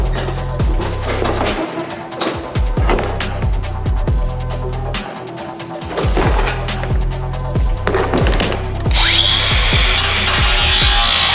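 A power tool cuts pieces out of a Subaru bumper beam, loud close grinding with repeated bursts and short pauses, ending in a harsher high-pitched cutting whine.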